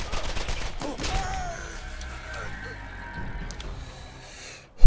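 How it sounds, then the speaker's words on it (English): Enemy gunfire in a shooter video game, a burst of shots near the start fading into scattered distant fire and rumble, with a sharp loud hit at the very end. "They're shooting"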